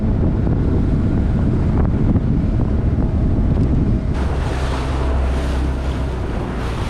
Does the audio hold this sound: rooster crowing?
no